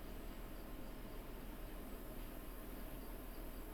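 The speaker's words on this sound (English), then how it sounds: "Crickets." Crickets chirping as a sound effect, a dense, steady wash of high insect trilling that holds evenly throughout with no voices.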